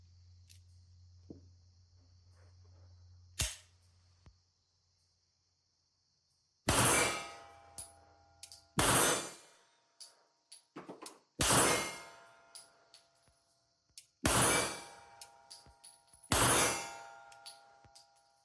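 Mannlicher 1905 blowback pistol fired at steel targets: a faint distant shot early, then five loud sharp bangs spaced about two seconds apart, each followed by a ringing metallic clang.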